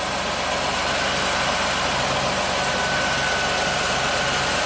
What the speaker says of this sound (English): you can hear the alternator's working hard